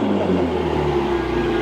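A warm supercar engine revs hard and close, a thick, continuous roar with strong low harmonics that holds steady through the short burst, with no voices over it.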